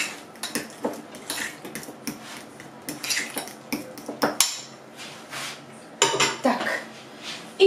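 A metal spoon stirs sugar into a small mixture in a bowl while preparing yeast dough for raspberry sweet buns, giving irregular clinks and scrapes against the dish, close up and moderately loud, with no voice.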